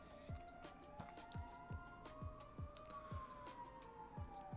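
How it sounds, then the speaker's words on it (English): A distant siren wails with a slowly rising and falling pitch, faint under a regular thumping beat. "Sorry for the sirens, by the way."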